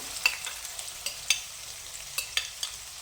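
Finely chopped onions stirred in half a cup of hot oil in a kadhai over a gas flame, a faint sizzle broken by several soft scrapes of a spatula, with no voices.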